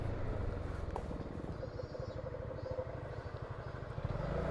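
A motorcycle passes in the Forza racing game, its engine buzzing in a steady pulsing drone at moderate distance, with faint game ambience underneath.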